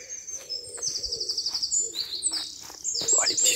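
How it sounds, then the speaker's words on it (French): Small birds chirp and tweet in a forest with spruce trees, their thin high calls repeating in quick runs over faint background, with no talking. "Oh, les petits oiseaux."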